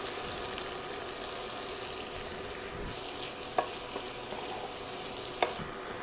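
Onions cooking in a skillet, seasoned with salt and black pepper, give a soft, steady sizzle throughout, broken by a few faint clicks and scrapes of a utensil.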